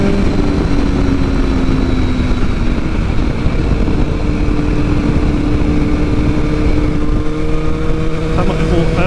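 Tuned 2022 BMW S1000R motorcycle engine pulling hard through the mid-range, a loud steady drone with rising harmonic tones under continuous wind rush, recorded close from the rider's position.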